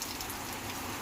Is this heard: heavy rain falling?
yes